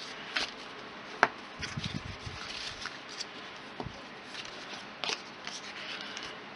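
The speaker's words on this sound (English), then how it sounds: "I'm going to score both ways so that the card folds nicely in the envelope and will sit nicely" Paper card being scored and creased for folding, a series of soft scraping strokes and light taps, quiet and close, with one sharper click partway through.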